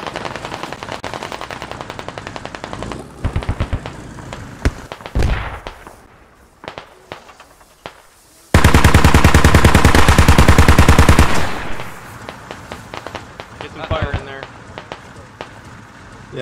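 Gunfire in the Squad military shooter game: scattered single shots and short bursts, then a long, loud stretch of sustained automatic fire, with players talking over much of it.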